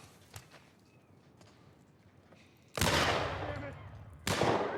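Gunfire in The Last of Us, with two loud sustained bursts of rapid shots cutting in after quieter scattered sounds, close and harsh.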